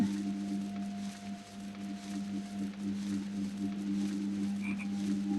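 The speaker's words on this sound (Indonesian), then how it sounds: "Ada suara kodok." Rhythmic frog croaks from the video game Marooned repeat steadily over a constant low tonal hum, with no talking.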